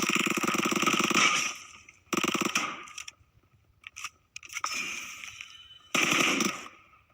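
Bursts of rapid automatic gunfire in the mobile shooter PUBG Mobile, several sustained volleys separated by short gaps and scattered single shots, loud and dense.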